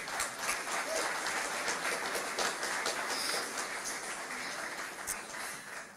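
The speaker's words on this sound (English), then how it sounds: "give him a round of applause" Concert audience at a Comhaltas traditional Irish music evening in Milltown, Rathconrath applauding steadily for a box player, a dense continuous clatter of many hands sustained for several seconds with no break.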